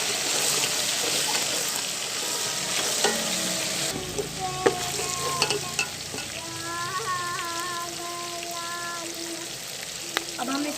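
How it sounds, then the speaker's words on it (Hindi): Ginger is stirred into a sizzling chicken biryani mixture in a pot. A spoon scrapes and clinks against the metal over a constant frying hiss, with a few sharper knocks along the way. "अब हम इसको अच्छी तरह मिक्स कर लेंगे।"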